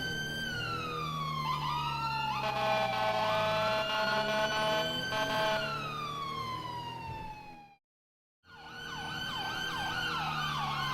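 A Los Santos police car siren in a video game, loud and close, sweeping through wailing and yelping tones, cutting out abruptly for a moment, then resuming with rapid warbling.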